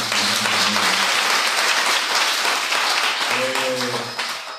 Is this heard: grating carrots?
no